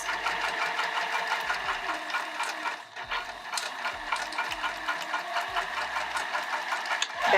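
A sewing machine stitching a vinyl bag, its rapid even mechanical whir and needle clatter running almost nonstop up close, with brief pauses and a short backstitch burst near the end.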